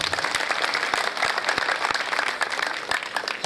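Audience at an Urdu and Punjabi poetry gathering (mushaira) claps steadily, a dense mid-distance round of applause with sharp individual claps standing out, lasting throughout.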